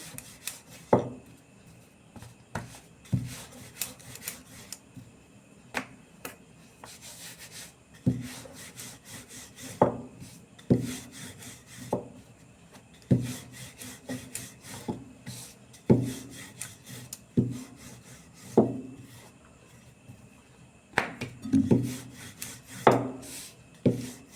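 A wooden rolling pin rolls out and presses palm-fruit paratha dough on a board, making soft scraping rubs and occasional light knocks in an irregular rhythm, close and quiet with no talking.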